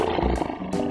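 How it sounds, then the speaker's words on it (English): A lion roar, brief and fairly faint, a short rumbling burst lasting under a second with no talk over it. "Lion."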